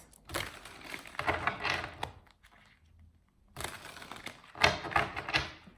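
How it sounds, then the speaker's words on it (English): Two bursts of crisp rapid riffling and slapping as tarot cards are shuffled close up, separated by a short quiet pause. "Two more shuffles."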